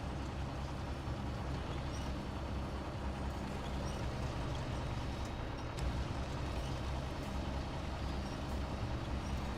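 Kenworth truck in a driving game, with a steady, loud engine drone and air-brake hiss running throughout, no talking over it.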